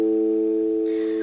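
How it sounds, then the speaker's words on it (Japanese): A low A on the fifth string of an unamplified guitar, electric or acoustic, plucked once and left to ring as a steady sustained tone with clear overtones that fades only slightly. "5弦の音をまずボーンと鳴らしてみてください。"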